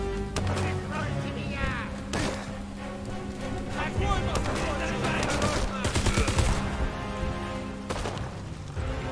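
Dense gunfire in a WW2 realtime stealth tactics video game, rapid shots and bursts over a steady game soundscape throughout, with someone talking over it.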